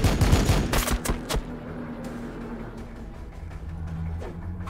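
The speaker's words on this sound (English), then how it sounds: "Firing on the enemy." Volleys of gunfire from units in Warhammer 40,000: Battlesector, a dense burst of rapid loud shots up front that trails off into scattered, fainter reports and a low rumble.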